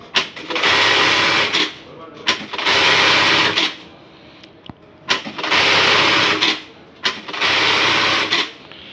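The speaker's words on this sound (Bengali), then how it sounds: "এখন মেশিনে চালাবো" A Juki button sewing machine runs in four loud bursts of whirring motor noise, each lasting about a second, separated by short quiet gaps.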